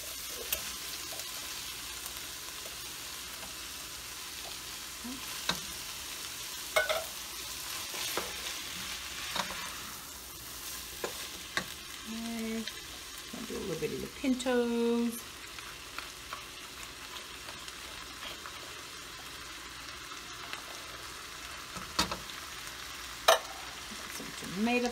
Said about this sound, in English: Go ahead and add our beans to it.